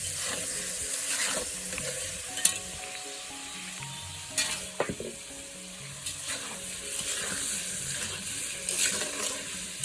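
Singi fish and boiled papaya stir-fried in a pan, a steady close sizzle with scraping stirs and occasional clatter throughout, no voices.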